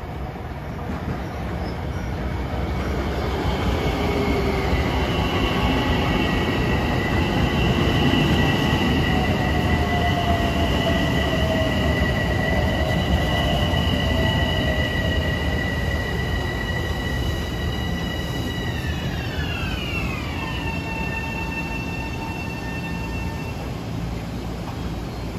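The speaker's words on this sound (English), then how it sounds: "Arriving westbound at 7:40 is train 2103 from Farmingdale to Penn Station." A westbound Long Island Rail Road commuter train arrives at Carle Place on a triple-track line, rumbling loud and close with a steady roar, wheel noise and a long high squeal that slides downward as it slows.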